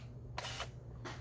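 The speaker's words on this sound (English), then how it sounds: "listen to the shutter" A film camera shutter fires for a long exposure: a sharp mechanical snap opens it, followed by a second snap about two-thirds of a second later as it closes, over a faint steady hum.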